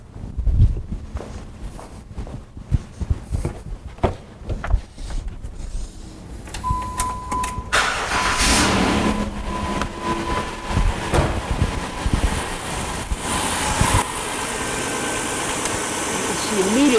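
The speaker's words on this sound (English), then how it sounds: "Let's go ahead and run the car." A car engine cranks and catches, then settles into a steady idle during a DIY power steering fluid flush, with clicks and handling noises before it starts and the running engine continuing to the end.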